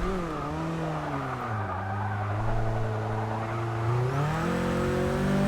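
Racing car engine in the video game Forza Motorsport 6, a Silvia build droning loudly with pitch rising and dropping through gear changes, plus a squealing tire layer, continuous and close, with no talking.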